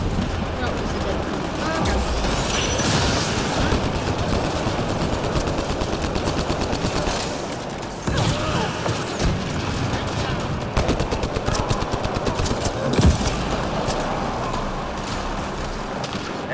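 Talon pistol and other guns firing during a Mass Effect Andromeda multiplayer match, steady dense bursts of gunfire and explosions running throughout, with a voice talking over the battle.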